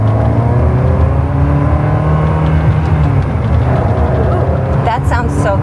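A Ferrari 360 Spider engine revs loudly and continuously as the car pulls away, heard close from inside with people talking over it.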